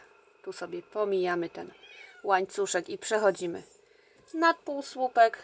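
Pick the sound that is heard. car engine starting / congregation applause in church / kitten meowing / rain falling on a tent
kitten meowing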